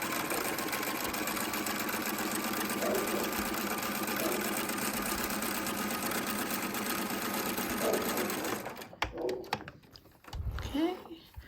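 A sewing machine stitches pintucks in a steady, close whir for about eight seconds, then stops and gives way to brief handling noises and quiet rustling.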